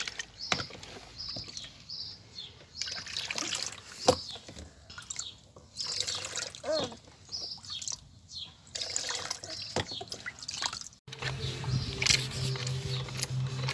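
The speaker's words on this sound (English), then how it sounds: "I think we need to pour the water in" Water trickles and drips into the moat of a toy pirate boat, scattered splashes and pours close by, irregular and fairly quiet, ending in a steadier low gush.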